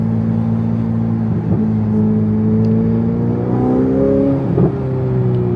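A Ferrari supercar accelerating hard with wheel spin, its engine droning loud and close in a steady low tone that climbs gradually, with a brief tyre scuff and rev surge near the end.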